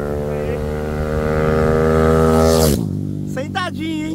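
A 70mm OHC boat motor warming up, its steady, loud droning whine holding before dropping sharply in pitch, followed by voices talking close by.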